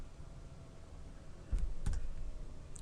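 A computer mouse gives two sharp clicks about a third of a second apart, close and fairly quiet over a soft steady room hum.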